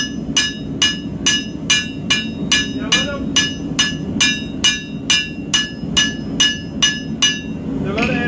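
Hammer strikes on a hot steel blade point during forging: about fifteen sharp, ringing metallic blows at a steady, fast rhythm, close and loud, with a low background hum and no talk.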